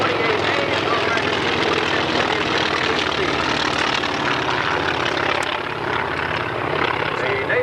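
A North American T-28 trainer flies past at a 1984 airshow in Denton, its loud steady propeller and engine drone filling the air with no break, close and constant throughout.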